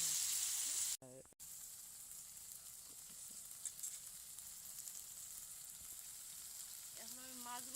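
Small fish frying with taro stolons in a pan give a steady, soft sizzle, briefly interrupted near the start, with faint stirring scrapes throughout.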